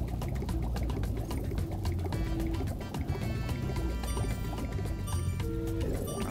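Rushing water from a waterfall in the Spyro Reignited Trilogy video game, a steady splashing roar heard under layered game music with melodic tones throughout.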